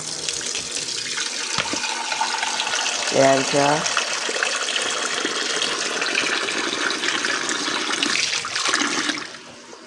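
Tap water gushing into a cooking pot, a loud steady rush running most of the way before cutting off, with a brief spoken word partway through.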